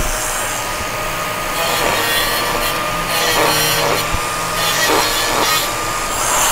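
An angle grinder cuts out porosity from a pipe weld, giving a steady abrasive grinding whine with scraping fluctuations. Someone talks over it.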